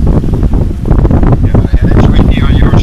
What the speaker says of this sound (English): Oh, it's real windy on our side.